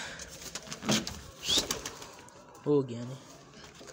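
Pigeons in a small backyard loft coo softly, with a short throaty coo near the end, mixed with rustling and brief flutters while someone speaks briefly.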